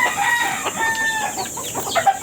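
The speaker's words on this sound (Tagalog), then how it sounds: "Sobrang dami niyang manok." Chickens cluck steadily close by, with a rooster crowing among them; a busy, lively flock with no talking.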